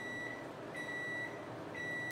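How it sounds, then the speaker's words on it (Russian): A microwave oven beeps in a steady, repeating pattern of three evenly spaced tones against a quiet indoor hum. "Что это пищит? Микроволновка подогрела."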